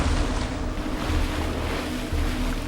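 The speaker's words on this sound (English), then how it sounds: "We just see the water bubbling." River water churns and bubbles in a loud, continuous rushing wash, with a steady low rumble underneath and no voices.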